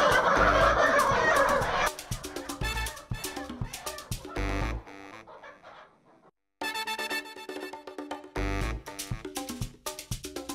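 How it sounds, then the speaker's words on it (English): Chickens being moved into a newly disinfected farm chicken house give a run of loud, close clucks and calls, at first dense and overlapping, then broken into short bursts with a brief lull in the middle. "it's time to bring in the chicken."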